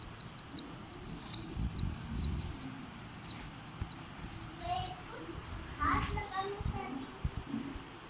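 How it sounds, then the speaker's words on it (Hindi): Young chicks peep in rapid, high bursts of chirps at close range in the morning, with clucking and a voice speaking underneath. "देखो भाई, सुबह सुबह हमारे चूजे महाराज जी उठ गए हैं"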